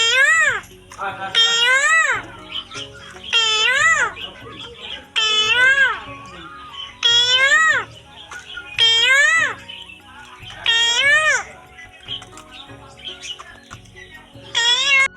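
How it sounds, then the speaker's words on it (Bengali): A parakeet repeats short, squawky speech-like calls in a steady sequence of about eight bursts separated by short pauses, fairly close and loud. "তোমরা শুনতে পাচ্ছ যে টিয়া পাখিটা কথা বলছে"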